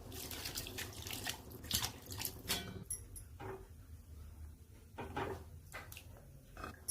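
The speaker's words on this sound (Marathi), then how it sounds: "आता आपण 4 वाटी पाणी टाकू" Water poured from a bowl into a pot of masala rice with spices and washed rice, several splashing pours and gurgles in bursts with short pauses between, close and fairly soft.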